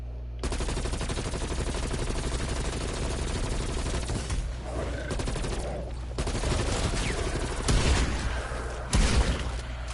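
Dense, continuous gunfire from Call of Duty: Black Ops Cold War zombies mode, a steady automatic-weapon barrage that runs loud and close throughout with a few heavier bursts near the end.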